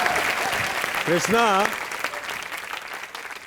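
A television comedy show's studio audience applauds, with steady clapping under someone speaking over it before the applause fades.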